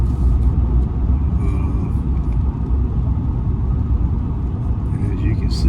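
A newly bought diesel truck drives on the road, its steady low engine rumble and road noise filling the cab continuously and fairly loud throughout.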